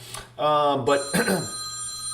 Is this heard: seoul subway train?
no